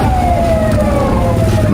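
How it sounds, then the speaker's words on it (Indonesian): A fire engine siren wails loud and close, its steady tone sliding slowly downward over a short stretch, sounding as fire trucks head to a burning logistics storage building in Bekasi. "Sedikitnya 8 unit mobil pemadam kebakaran diterjunkan ke lokasi untuk menjinakkan si jago merah."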